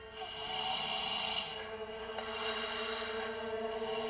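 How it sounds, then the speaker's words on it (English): A sleeping child snores, with a long rasping breath followed by quieter, softer breathing, close and faint without any talk. "he snores. And between the snores, he stops breathing."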